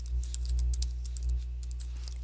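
Fingers type on a Mac computer keyboard nearby, a quick run of light, irregular key clicks over a low steady hum. No one speaks.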